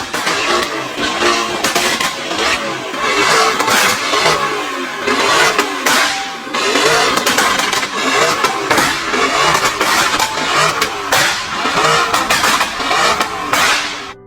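Restored wrecked car with a new rear exhaust revving repeatedly, loud close bursts of engine roar rising and falling with crackling pops between blips, around a dozen throttle stabs.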